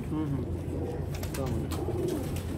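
Several Sialkoti pigeons coo softly in low, repeated murmurs, close by, mixed with faint chatter in the background.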